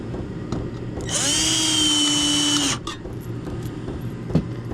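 A power drill whines loudly for about one and a half seconds, driving a screw through plywood into siding inside a shed, then stops, leaving quiet background noise.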